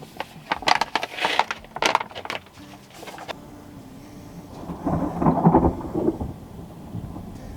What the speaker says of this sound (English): That thunder is so beautiful.